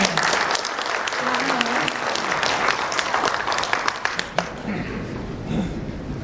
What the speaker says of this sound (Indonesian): Kita berikan tepuk tangan pada beliau.